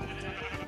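Sheep bleating in Minecraft VR, a short, steady in-game call that fills the moment with no talk over it.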